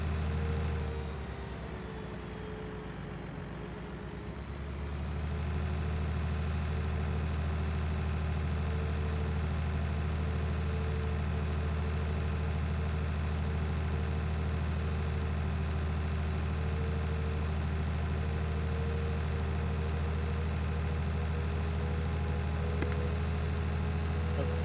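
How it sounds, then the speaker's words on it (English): Tractor in a farming video game straining to pull a heavy trailer during an autumn harvest, a steady low engine drone with a brief dip as it labours, then holding an even heavy hum throughout. "Trailer must be heavy. This tractor didn't want to take off."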